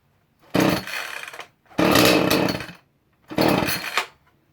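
A Shindaiwa 305s chainsaw fires and roars in three loud, close bursts separated by short silences, each buzzing run stopping abruptly, with no talk.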